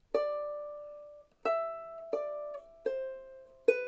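A ukulele plucks a riff, five clear notes, each ringing and decaying before the next, played close and alone with no talking.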